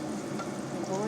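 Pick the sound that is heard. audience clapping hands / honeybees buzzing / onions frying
onions frying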